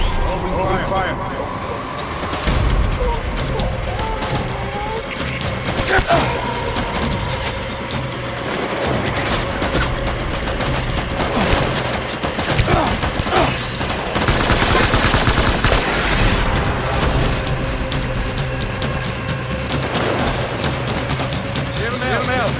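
Gunfire in a Death Stranding battle set in a WWII scene, sustained bursts of machine-gun and rifle shots with rumbling vehicle noise, under voices talking.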